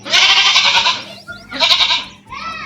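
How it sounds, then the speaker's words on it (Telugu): A goat bleats loudly and close by at a rural home, with two long wavering calls followed by a shorter third one, and no talk. "మేక మే అంటుంది ఇక్కడ"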